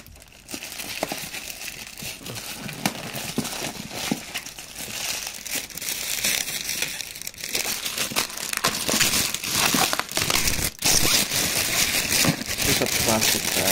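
Close, continuous crinkling and tearing of plastic wrap, with sharp rustles and crackles throughout and no pause.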